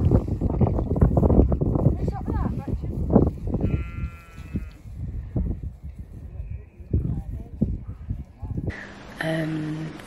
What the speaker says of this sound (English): Got to see the sheep for the wool,